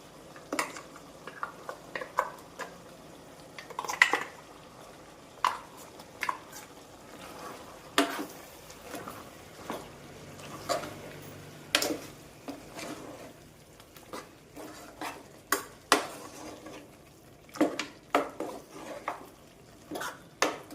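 Spiced chicken soup being stirred in a pot with a metal spoon, giving repeated scraping clinks and taps against the vessel at an irregular pace, fairly close and moderately loud, with no talking.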